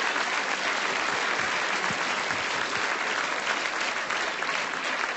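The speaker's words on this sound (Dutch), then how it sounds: "Geef je ons hartelijk applaus, onze decanteur Piet." A crowd at a Sinterklaas departure event applauds warmly, a dense, even roar of clapping that holds steady throughout without any voices standing out.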